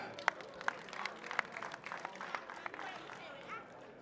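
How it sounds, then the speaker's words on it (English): A boxing crowd claps for the boxers after a bout, scattered sharp claps rising over a murmuring arena with chatter underneath, moderately distant and fairly quiet. "Let's clap hands for the boxers one more time."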